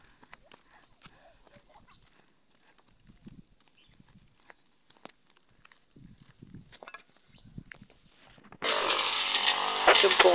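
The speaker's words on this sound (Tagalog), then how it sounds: "Subukan natin tong grass cutter kung ukra dito sa bundok" A grass cutter starts up loud and close on rocky mountain ground, a harsh, steady two-stroke whine that takes over after several seconds of quiet footsteps, rustling and scattered voices.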